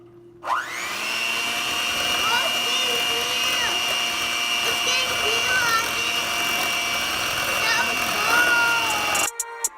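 An electric mixer whirs steadily while beating macaron frosting, a loud continuous motor drone with shifting pitch as it works, running for several seconds before cutting off abruptly.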